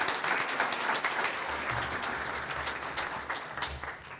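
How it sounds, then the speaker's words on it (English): An audience applauds award-winning students at a Star Student Awards ceremony, a dense, steady wash of many hands clapping that carries through the whole stretch over a low room hum. "And another round of applause for all of the students who we've read about today."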